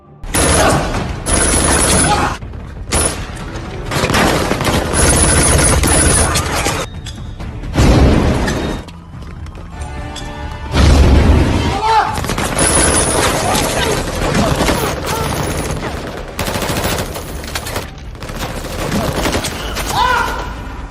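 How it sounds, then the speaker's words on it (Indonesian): Heavy gunfire erupts throughout a factory in a movie battle, with dense bursts of rapid shots, loud crashes and clattering mechanical noise rolling on for about twenty seconds with only brief pauses. "Tidak lama kemudian, baku tembak besar pun terjadi di seluruh area pabrik."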